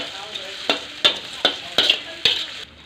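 Red chilli paste stirred into frying chicken, a spoon scraping the pan in five or six distinct strokes over a steady sizzle, close and fairly loud, with no talking.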